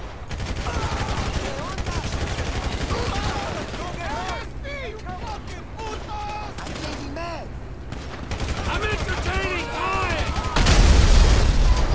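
Gunfire in the video game GTA V, with bursts of automatic shots and booms running under excited talking in Portuguese and English, ending in a louder heavy blast.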